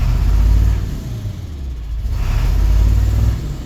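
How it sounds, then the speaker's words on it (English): A 2000 International 4700 semi-tractor with a T444e diesel, running with a slight misfire, revs up twice: a deep, loud engine rumble rises, eases off, then climbs again, close by and with no voices over it. "Let me rev it up for you so you can hear the engine."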